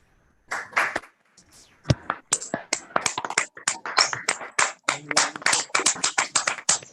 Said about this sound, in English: I would like to take a moment and unmute all of you so we can have a round of applause for everyone.